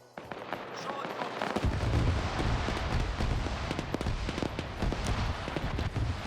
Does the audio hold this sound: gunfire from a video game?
yes